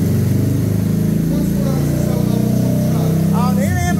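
Honda Pop 110i motorcycle engine pulling in third gear, a steady mid-pitched drone that rises slightly as it accelerates, with people talking over it throughout.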